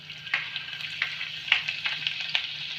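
Chopped garlic, seven or eight cloves, fries in hot oil for a Bengali-style macaroni pasta, giving a steady close sizzle with a few sharp crackles and spoon scrapes scattered through it.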